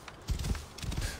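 Horse hooves in the video game Assassin's Creed Origins clip-clop in two short bursts of muffled thuds, close and moderately loud.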